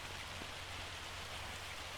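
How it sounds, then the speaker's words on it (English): Steady rain mixed with hail pattering over a farm in Farming Simulator 25, a continuous dense wash of drops with no pauses, fairly quiet and even throughout. "it is still raining. Or hailing, I guess I should say."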